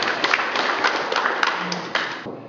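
Audience applause at a New Year seminar in Kharkiv, a dense steady wash of many hands clapping that carries on for a couple of seconds before dropping off abruptly near the end.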